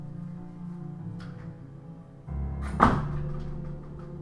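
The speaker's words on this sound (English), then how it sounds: "Let me close my door." A bedroom door shuts with a single muffled thunk midway through, close by over a low background hum, with no talking.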